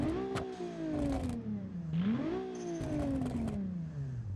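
A Group B rally car engine in the video game Automation revs and shifts, its pitch climbing, dropping, then climbing again in steady sweeps, loud and continuous with no talk.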